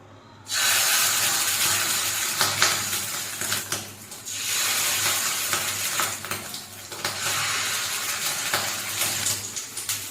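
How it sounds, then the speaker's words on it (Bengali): Fish roe spooned a little at a time into hot mustard oil sizzles loudly and close, rising into three broad hissing waves of frying, with a faint clink of the pan and no talking. "তেল গরম হয়ে গেছে এবার আমি ডিমটা অল্প অল্প করে তেলে দিয়ে দেব"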